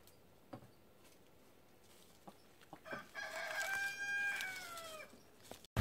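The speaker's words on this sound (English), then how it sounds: "our second location would in fact have roosters waking us up at 7 a.m." Rooster crowing at morning near an RV campsite, one long drawn-out cock-a-doodle-doo rising in the middle after a few scattered clucks and taps, moderately close against quiet background.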